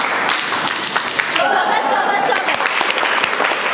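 Students at a government school in Bihar give a sustained burst of welcome applause, a dense, steady roar of many hands clapping together at close range with faint crowd murmur beneath.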